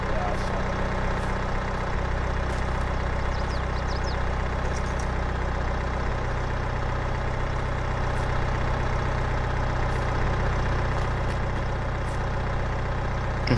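A tractor engine idles in Farming Simulator 22, a steady low rumble with constant drone throughout, close and continuous, with faint clicks over it.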